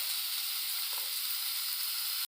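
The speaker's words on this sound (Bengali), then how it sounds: "মশলাগুলো ভাজা হয়ে গেছে" Chopped tomato, green chillies, salt and spices fry in a pan for a dhokar dalna curry, giving a steady, close hiss of sizzling oil with no voices.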